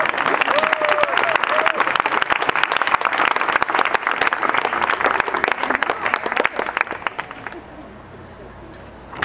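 An audience at a Theology on Tap talk breaks into loud, sustained applause and cheering that fills the room, then fades near the end.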